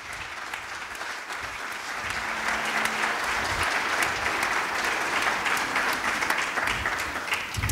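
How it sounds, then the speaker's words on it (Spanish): A concert audience applauds a singer being introduced, with a sustained, even wash of many hands clapping at close range throughout and no break in it. "un fortísimo aplauso para la vikinga de Sevilla"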